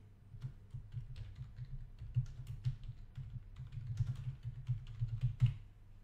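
A computer keyboard being typed on to enter a presentation name, with quick irregular clicks and taps in bursts, close and clear, and no speech.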